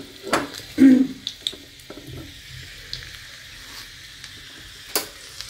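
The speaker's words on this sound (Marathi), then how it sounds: "आता तेल छान तापलं आहे, त्यात आपण हा चिरलेला लसूण टाकायचा आहे" Chopped garlic dropped into hot oil, a short sizzling crackle followed by softer spitting and a few light utensil taps, close and fairly quiet with no voices.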